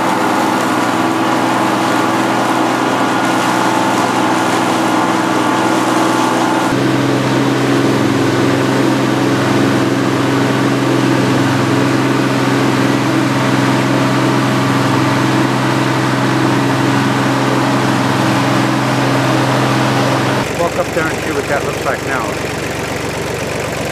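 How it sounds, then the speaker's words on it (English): A lawn mower cuts a clover food plot, its steady mid-pitched engine drone running loud and continuous close by, shifting in tone partway through as the load changes, with talk over it. "So we'll mow on up through here."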